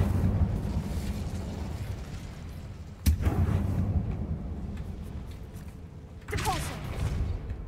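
Incendio fire spell cast in Hogwarts Legacy, heard as a sharp whooshing burst that flares abruptly over a low rumbling game backdrop, followed a few seconds later by another rushing fiery blast.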